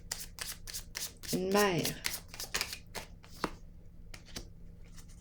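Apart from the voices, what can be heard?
tarot cards being shuffled and drawn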